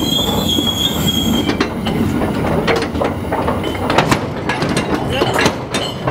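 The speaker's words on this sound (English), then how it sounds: "The train!" A train passes close by with metal wheels squealing loudly against the rails, the screech steady over a dense rumble throughout, with a few sharper clanks along the way.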